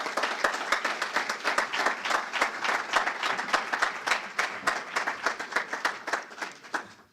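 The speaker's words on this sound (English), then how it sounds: "Give her a round of applause, please." Audience applause at an evening MLK honoring event, a dense run of quick claps from a moderately sized crowd that stays steady and fades out near the end, with no talk over it.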